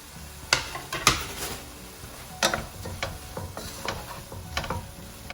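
Chopped green pepper and grated carrot cooking in a pan for vegetarian kadhai pulao, with a soft sizzle under scattered sharp clinks and scrapes of a utensil stirring against the pan.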